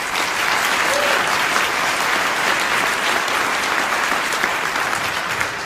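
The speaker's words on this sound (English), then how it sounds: "I'd like to give them another round of applause" Steady, full applause from an audience at a district attorney candidates forum, a dense continuous wash of many hands clapping at even loudness with no pause, no talk over it.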